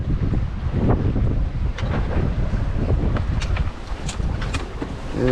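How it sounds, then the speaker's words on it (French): Gusting wind buffets the microphone aboard a sailboat crossing the Atlantic, a loud continuous roar with rushing water and occasional knocks and creaks, no voices. "on peut voir que le vent ça s'est calmé parce qu'on est entre 2 grains"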